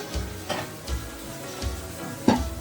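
Grated carrot dropped into onion frying in a pan, with soft sizzling and a few spaced clicks and scrapes of a utensil stirring against the pan, ending in a sharper knock.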